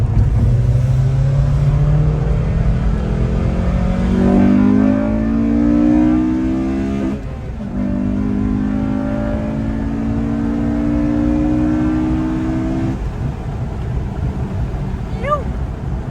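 A Honda car's engine pulls under throttle while driving, its pitch rising in two long climbs with a brief dip between shifts, loud and close, with some talk inside the car.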